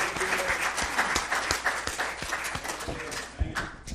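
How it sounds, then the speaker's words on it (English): Church congregation clapping hands in praise during a worship service, a steady dense applause with scattered sharper individual claps, moderately loud and continuous throughout. "Can we just give him a hand clap of praise?"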